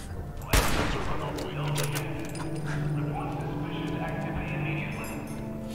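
A dog barks and whimpers in the Fallout 4 video game, with a sharp burst of gunfire near the start and steady game background noise throughout.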